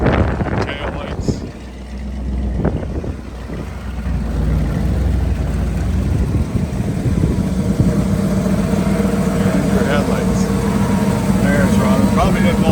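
A 1979 Dodge Lil'Red Express with stacked dual exhaust runs steadily at idle, a loud, close, continuous engine rumble, while a person talks over the first part.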